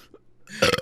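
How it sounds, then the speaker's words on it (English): A single loud, close burp comes from a person who has just been drinking spicy Sprite. It rumbles out abruptly at the end after a brief quiet lead-in. "I have to burp"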